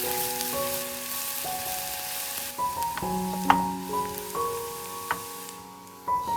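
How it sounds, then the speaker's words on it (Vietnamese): Onion, garlic and ginger sizzling in hot oil and caramelized sugar in a hot pan, a soft steady frying hiss under louder melodic background music. "Thêm hành, tỏi, gừng vào phi thơm."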